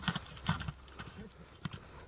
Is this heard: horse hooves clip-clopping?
yes